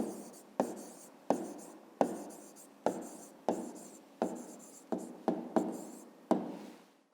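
A pen writes an answer on paper in a series of about ten quick scratchy strokes, each a sharp onset fading away, close and fairly quiet with no voices.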